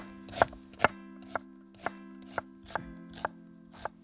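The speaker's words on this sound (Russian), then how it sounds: "Лук нарезаем полукольцами." Knife slicing an onion into half rings on a board for a smoked-meat stew cooked in a cauldron over a campfire, with seven crisp evenly spaced chops over a steady low background hum, no talking.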